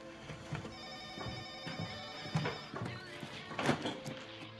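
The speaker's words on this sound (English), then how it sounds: "the phone's ringing" A telephone rings indoors with repeated electronic tones, fairly close and steady, over faint background thumps and a murmur.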